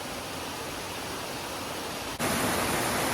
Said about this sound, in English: I've got a creek crossing here